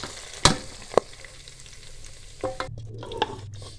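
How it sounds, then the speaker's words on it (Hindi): Hot oil sizzles steadily as tempering spices fry for a lentil and pumpkin dish, with a couple of sharp clatters early on and stirring sounds toward the end. "ज़बरदस्त हमारा ये देखिए तड़का तैयार हो रहा है।"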